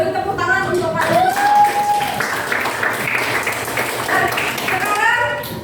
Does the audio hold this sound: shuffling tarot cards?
no